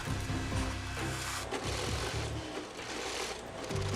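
An industrial sewing machine stitches a tough combat jacket with strong plastic thread at a factory sewing station, running in steady bursts with a busy workshop clatter around it.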